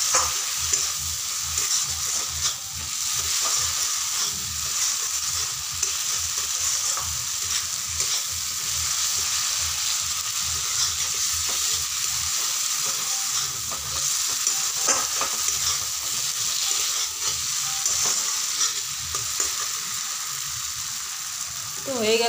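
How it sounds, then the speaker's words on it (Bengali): Egg curry is sautéed and stirred in a pan, with a steady, fairly loud sizzle and frying hiss running the whole time, broken by scraping stirs; no one speaks. "ডিম দেওয়ার পরে আমি আরেকটু কষাবো"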